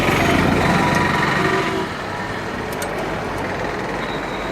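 A Royal Enfield Classic 350 BS6 fitted with a Cobra exhaust runs steadily nearby, a loud, even engine drone that drops slightly in level about halfway through and continues without talk.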